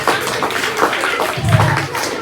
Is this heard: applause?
yes